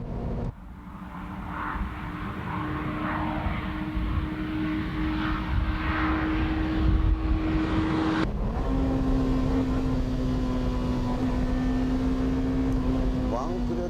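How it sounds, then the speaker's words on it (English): A BMW M3 at full throttle in strong wind: a rising engine drone climbs through the gears with a brief shift break, under a steady wind roar. "Let's see how the car reacts at full throttle without slalom."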